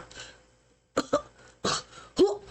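A human voice imitates a character's coughing: several short, harsh, separate coughs spaced apart, fairly close and quiet, with no other talk.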